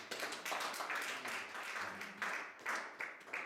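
A church congregation applauds and acclaims the Lord with steady clapping and voices rising in waves, loud and sustained throughout.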